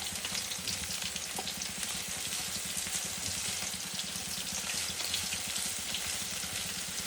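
Onions fried in oil while being stirred, a steady close crackling sizzle with faint scraping, continuous and even throughout, no voices.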